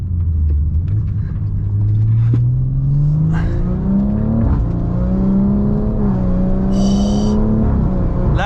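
A 665 hp BMW M140i xDrive engine revs up loudly close by, rising and falling through several strong, rumbling pulls with brief dips between them.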